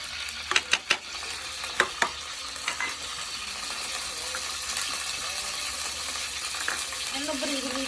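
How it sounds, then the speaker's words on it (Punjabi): Potatoes frying in oil in a wok, a steady sizzle with several sharp stirring clatters and scrapes early on, then continuous frying hiss with faint voices in the background. "ਇਹ ਵਾਲੇ ਜਿਹੜੇ ਆਲੂ ਆ ਨਾ ਇਹਨਾਂ ਨੂੰ ਅਸੀਂ ਫਰਾਈ ਕਰਨਾ"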